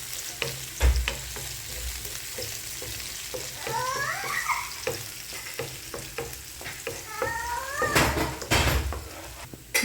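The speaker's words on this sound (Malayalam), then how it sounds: "ആ എണ്ണയിൽ തന്നെ ഈ വെളുത്തുള്ളി ഇടുക. നന്നായി ഒന്ന് വഴറ്റി കൊടുക്കുക." Garlic sautéing in a pan of oil left over from frying chicken: a continuous close sizzle with spatula scrapes and stirring clatter, a few metallic pan knocks, and a brief high squeak in the middle.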